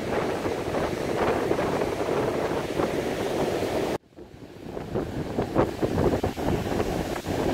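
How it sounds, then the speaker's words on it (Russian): Cold North Sea waves at Scheveningen beach in The Hague roll and wash ashore with steady, loud surf. Wind buffets the microphone throughout, and after a brief dropout the breaking water builds back up. "смотри, какая волна идет."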